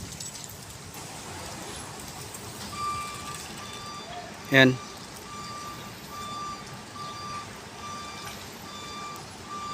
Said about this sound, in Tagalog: Guys, ayun na yung pangalawang truck dumating na.